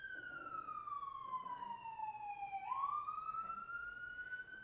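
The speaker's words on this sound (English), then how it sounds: "sirens." A single wailing siren sweeps down in pitch and then rises again, loud and steady against a low background rumble.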